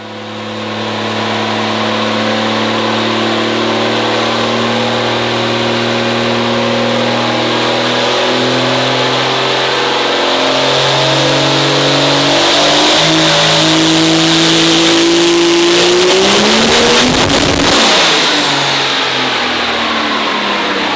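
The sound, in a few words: race car engine revving on a dyno with nitrous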